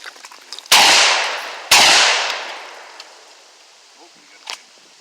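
A 12-gauge bullpup pump shotgun loaded with number 5 shot fires two loud, close blasts about a second apart outdoors at a gun range, each decaying into a long echo, followed by faint clicks.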